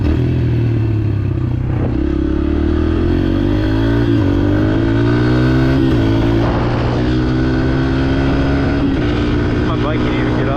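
A dirt bike's engine revs hard while riding wide open on back roads, the close, loud motor rising and falling in pitch as people talk over it.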